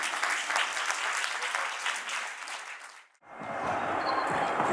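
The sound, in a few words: applause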